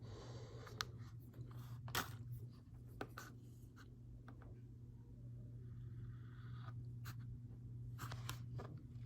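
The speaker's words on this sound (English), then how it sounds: "So I'll just take that X-Acto and I'll trim those edges off so it's a perfect rectangle" An X-Acto knife trims the edges of a paper sheet into a rectangle. Short, faint scratchy cuts come in a few separate strokes over a low, steady hum, with no voices.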